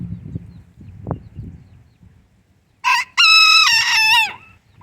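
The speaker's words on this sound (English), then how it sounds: "Sounds like he wants to crow." A wet rooster crows once near the end, a loud, close harmonic cock-a-doodle-doo after a quiet stretch of low outdoor rumble and faint rustling.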